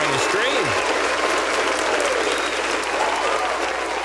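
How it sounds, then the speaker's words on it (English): Audience applause during a live podcast show, a sustained, loud burst of many hands clapping that holds steady throughout, with faint voices and cheers mixed in. "big shout out, round of applause to all of the amazing patrons"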